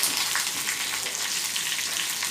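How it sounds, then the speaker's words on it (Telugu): Lentils and curry leaves fry in a pan while being stirred, a dense, bright, continuous close sizzle with steady crackle and no pauses. "మరోసారి కలుపుకుంటూ వేయించుకోవాలి"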